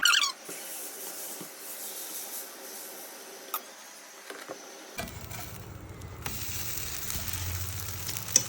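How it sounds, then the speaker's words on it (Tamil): Dosa batter poured onto a hot pan in a home kitchen, first quiet, then a steady hissing sizzle that rises and holds close and fairly loud toward the end. "இப்போ நம்ம தோசை ஊற்றலாம் வாங்க"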